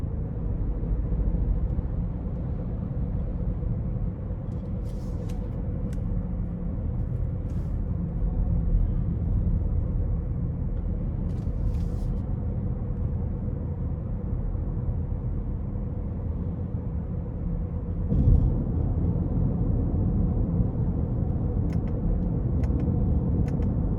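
Inside a 2021 Genesis G80 2.5T driving in comfort mode, the cabin holds a low, steady road and engine rumble, quiet and muffled, with only a few faint ticks.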